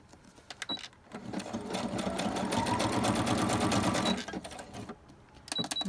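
A sewing machine runs in a steady fast whir while stitching zigzag on vintage postcards, starting and stopping, loud and close, with no talk.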